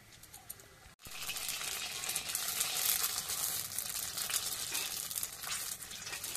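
Fuchka puris fry in hot oil with a dense, steady sizzle that starts abruptly after a short pause and carries on crackling close by.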